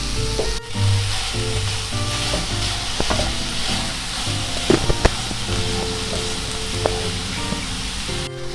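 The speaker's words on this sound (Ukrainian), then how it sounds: "Поки наше яблучко ще карамелізується" Apples caramelize with sugar and lemon juice in a hot pan, a continuous close frying hiss with occasional pops and light scraping of a utensil.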